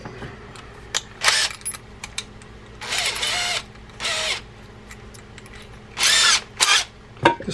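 An electric drill drives screws to fix a coffee can to a scrap-wood birdhouse, whirring close up in several short bursts separated by brief pauses.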